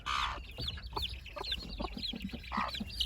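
A hen clucks beside a chick in a backyard poultry yard, with short, repeated close clucks and higher chirps forming a busy, steady pattern.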